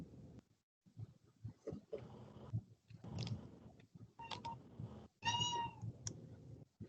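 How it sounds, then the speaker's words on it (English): House cat meowing indoors during an online meeting, a few short mews and a clearer rising meow near the end among soft rustling and quiet murmured speech. "You might hear my cat."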